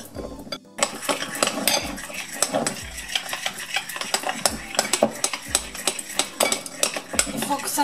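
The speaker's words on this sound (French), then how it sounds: "je vais mettre le yaourt nature et je vais bien mélanger" A spoon works through almond purée and plain yogurt in a bowl while making batter for gluten-free buckwheat chocolate muffins. It gives close, rhythmic scraping and clinking strokes that repeat steadily throughout.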